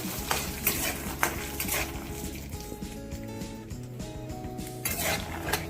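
Peanuts being roasted in a little oil in a pan for idli chutney, with steady clinks and scrapes from stirring over a low frying hiss, close and moderately loud.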